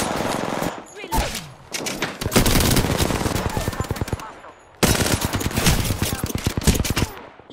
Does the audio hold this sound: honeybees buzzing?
no